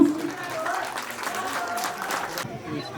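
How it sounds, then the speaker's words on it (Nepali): An audience claps steadily and continuously at a Nepali gathering, a dense patter of many hands close by that carries on for the whole moment before thinning near the end. "एकदम ताली बजाउनु रेगुलर बजाउनुहोस्।"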